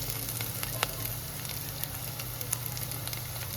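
Crushed ginger-garlic paste sizzles in a pan with fried onions for an Andhra-style tomato dal and potato fry, a steady, even hiss with faint crackles and no voices.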